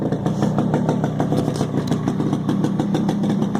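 A Yamaha RXS 100 motorcycle idles close by after a cold start following three months unused, its smoky engine throbbing in a steady, rapid, slightly uneven beat with mechanical clatter and no voices.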